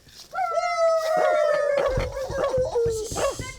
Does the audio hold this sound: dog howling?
yes